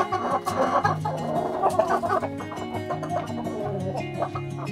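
Young chickens in a farm coop cluck and squawk in close, overlapping bursts, with busy rhythmic clucking that continues throughout and no talking.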